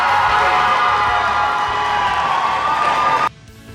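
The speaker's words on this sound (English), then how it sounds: "a round of applause for the runners-up in Federation Cup 2022, the Binghamton University Bearcats" Crowd cheering and applauding the Binghamton University Bearcats as Federation Cup 2022 runners-up, a loud sustained roar of cheers and claps that cuts off abruptly near the end.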